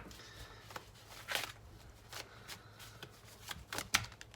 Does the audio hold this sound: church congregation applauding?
no